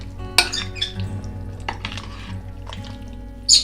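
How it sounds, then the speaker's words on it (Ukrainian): Meat and chopped garlic being stirred in a pot, with a spoon clinking against the metal sides in a few scattered knocks and scrapes, close and fairly quiet, with one sharper clink near the end. "Тепер все гарненько перемішую"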